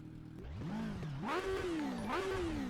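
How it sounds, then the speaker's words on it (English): Race car engine in the Automobilista sim racing game with a high-revving motorcycle-like tone, rising and falling revs in two or three sweeping pulls, fairly loud with no talk. "it's like a motorcycle engine"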